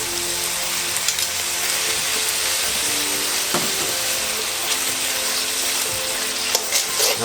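Onions frying in a pan for sukiyaki udon, a steady crackling sizzle running evenly throughout with a few brief clicks of stirring, no talking.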